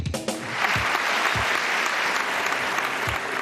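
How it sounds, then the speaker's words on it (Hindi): A studio audience at a Pakistani television game show breaks into loud, dense applause, a sustained wash of clapping that swells after a few sharp initial claps and carries on steadily. "जो हमारे फालतू लोग हैं वो जरा तालियां बजाएं जोर से।"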